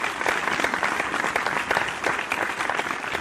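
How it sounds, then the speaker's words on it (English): A round of applause from a small audience, close and lively, with quick overlapping claps forming a continuous burst that carries on for a few seconds. "And that deserves a round of applause."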